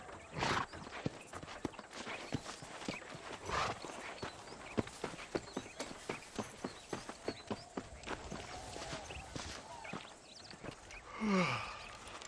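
Horse hooves clip-clop in a steady walking rhythm through most of the stretch in the Red Dead Redemption video game, close and fairly quiet, with a brief louder burst near the end.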